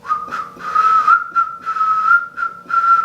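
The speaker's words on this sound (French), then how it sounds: "Je siffle faux." A person whistles a wavering, off-key tune close up, a thin steady tone broken into short phrases with brief pauses, no talking.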